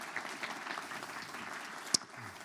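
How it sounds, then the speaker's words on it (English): An audience applauds after a talk at a network operators' conference, moderate clapping from a room of people with one sharp click near the end. "A big applause."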